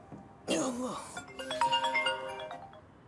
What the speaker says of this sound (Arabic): منو هذا اللي حارق التليفون هالوقت؟